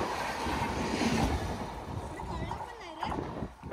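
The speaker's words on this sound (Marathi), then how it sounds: "ट्रेन आपल्याला दिसलेली आहे" A Konkan Railway train rumbles past with steady rolling wheel and carriage noise, fairly close and sustained, while people talk over it.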